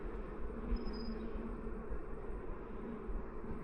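Honey bees buzz at an open beehive during a summer hive inspection, a dense, continuous swarm drone close by, with one brief higher whine as a bee passes near.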